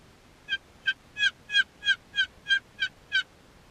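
A Rio Grande wild turkey gobbles in Colorado spring turkey country, with trees, a field and cedar bushes around. Nine evenly spaced, rapid gobbling notes ring out clearly at moderate distance over quiet background.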